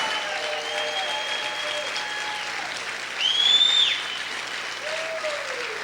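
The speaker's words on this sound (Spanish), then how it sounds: "Aplaude fuerte al Señor." Church congregation applause fills the space at steady, even strength, with a few sustained voices and one louder shout or whistle swelling midway through.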